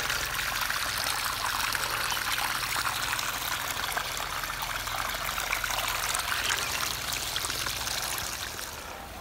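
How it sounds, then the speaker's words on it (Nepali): Water flowing into a rice paddy for irrigation in a Nepali village field after the harvest: a continuous, steady rushing trickle close by, with no pauses and no voices. "खेतमा पानी लाउन आएको"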